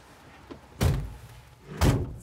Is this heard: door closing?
yes